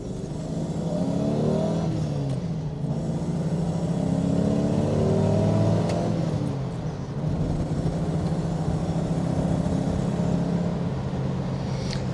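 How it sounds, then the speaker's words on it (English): A Rover SD1 Vitesse V8 accelerates through the gears, its engine note climbing in pitch, dropping at a shift around six seconds, then rising again, heard from inside the car at moderate loudness. "It gathers speed quite elegantly. The engine sounds lovely."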